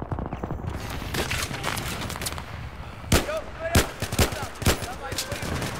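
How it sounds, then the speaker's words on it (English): Magnum revolver fire in the PC shooter Battlefield 3, four sharp loud shots spaced about half a second apart, ringing over constant battle noise and distant gunfire. "Booyah, it's a fucking headshot with the Magnum!"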